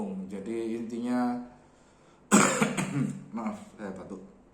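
A single sharp cough bursts out between stretches of a person speaking, close and fairly loud.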